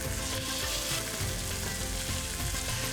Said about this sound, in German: Jetzt legen wir das Fleisch in die Pfanne